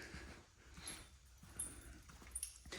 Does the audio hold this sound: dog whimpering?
yes